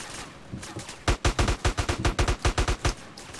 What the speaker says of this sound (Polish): typek w ogóle cały czas strzela